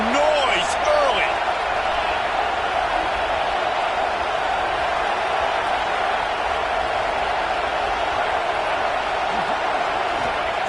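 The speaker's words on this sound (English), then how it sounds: "This crowd bringing the energy and noise early." A college football stadium crowd at an ACC game roars in a steady, loud wash of cheering that holds for the whole stretch, with faint voices mixed into the din.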